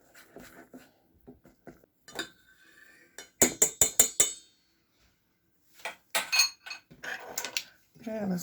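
A spoon clinks against a mixing bowl while apple cake batter is stirred, giving bright metallic taps, first sparse, then a rapid burst of five strikes, then further clusters. Brief speech is heard between the strikes.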